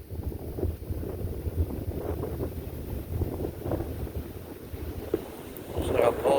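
Strong wind buffets the microphone outdoors in a southern Illinois forest, a steady broadband rumble and roar running throughout with gusts swelling near the end.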